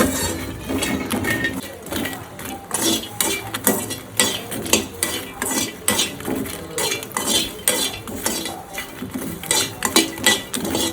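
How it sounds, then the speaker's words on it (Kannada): Makhana (fox nuts) dry roasting in a pan, with a steady, rhythmic rattle and clink of a spoon stirring against metal, fairly close and continuous, with no voices. "ನೋಡಿ ನಾನು ನೆಕ್ಸ್ಟ್ ಮಖಾನ ಹೊಲಿತಾ ಇದ್ದೀನಿ."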